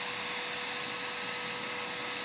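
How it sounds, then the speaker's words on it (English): A vacuum cleaner runs loud and close while sucking up yellow jackets, a constant high-pitched whining roar with a steady hum and no talking. "I need a stronger vacuum."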